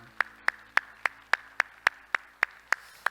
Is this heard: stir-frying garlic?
no